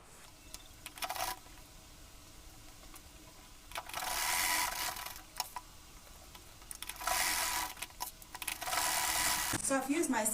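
A sewing machine stitches a denim jean handbag near a studded lining piece, running in several short bursts separated by pauses, with faint ticks and clicks between runs, fairly quiet and close.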